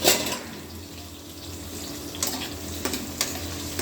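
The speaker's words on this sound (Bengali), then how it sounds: "তেল গরম তেলে আমি টমেটোটা দিয়ে টমেটোটা কিছুক্ষণ ভেজে নেব।" Tomato pieces frying in hot oil in a pan, with a watery hiss and splutter that swells at the start and then settles, plus several short scraping stirs toward the end, close by, with no voices.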